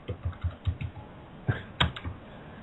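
Bursts of hard keyboard typing carried over an open conference call, a quick run of keystrokes followed by a pause and a few more heavy taps, with no one talking.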